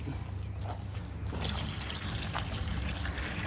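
A quart of hot water pours into a clean bucket, a soft steady trickling and splashing stream that runs close and fairly quiet for a few seconds, with no voices.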